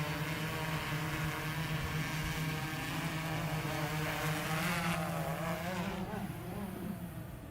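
A DJI Inspire 1 drone gives off a steady, close, droning buzz throughout, with a brief shift in its whirring tone partway through as the landing gear moves.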